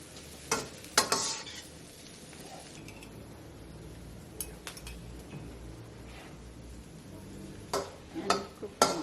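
Vegetables and cooked noodles are stir-fried in a pan during a Balinese cooking class, a steady low sizzle with scattered clinks and scrapes of a utensil, close by with no voices.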